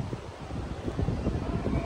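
Strong gusting wind before a storm buffets the microphone outdoors, a low rumbling roar with uneven surges, close and loud, no talk.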